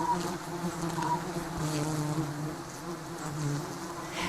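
Honey bees buzz steadily up close, a dense continuous drone with slight wavering pitches as individual bees pass, no voices.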